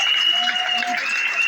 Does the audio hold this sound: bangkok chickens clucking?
no